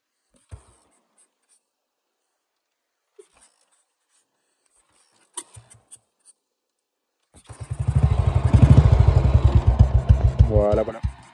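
A 1939 BMW R35 single-cylinder motorcycle starts after a few faint clicks and thumps, then idles with a loud, rapid, even thumping beat for the last few seconds.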